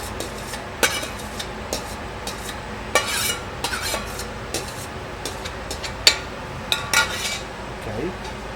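Eggplant, celery and onion are stirred in a pan, with repeated spoon scrapes and clinks against the metal over a soft, steady sizzle of frying, close and alone.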